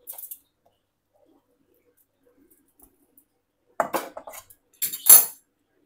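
Cooked cauliflower dish tipped onto a plate, with a few short clinks and scrapes of utensil against dish coming in brief clusters amid quiet.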